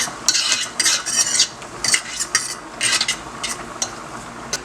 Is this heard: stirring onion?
yes